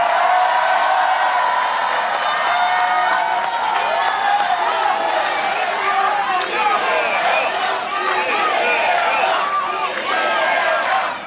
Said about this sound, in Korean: 박수 좀 크게 쳐주세요.